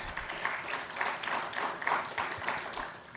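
Audience at an ARIN 55 conference gives a round of applause for a sponsor, a steady wash of many hands clapping at moderate distance for a few seconds, fairly soft throughout.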